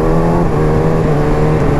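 A Kawasaki Ninja ZX-6R sport motorcycle revs hard on a test ride, a loud, steady, buzzy engine note held close throughout the short stretch, with no speech.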